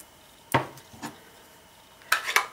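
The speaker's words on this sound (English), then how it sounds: "So I'm just going to stamp this right down in the corner here." A rubber stamp pressed down onto paper for a baby-themed card, three or four short, soft thumps and taps in a quiet room.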